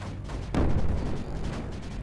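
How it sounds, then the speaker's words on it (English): Super mortars fire in the strategy video game Creeper World 4: one sharp, booming launch lands suddenly and rumbles away over a steady low background hum. "Oh, they've got super mortars."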